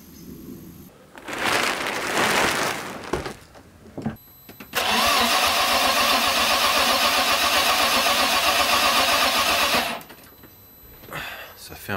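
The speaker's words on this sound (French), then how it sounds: "on va déjà tester au démarreur, voir comment elle se comporte à la sonorité" A car engine cranking on the starter motor during a compression check, two bursts of whirring churn, a short first try then a longer steady five-second crank with even rhythmic pulsing, close and loud, with talk before and after.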